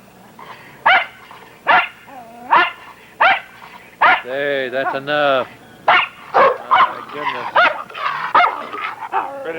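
A dog barks repeatedly in sharp, loud bursts, with a few whimpering yips between them, close by while a voice speaks over the barking.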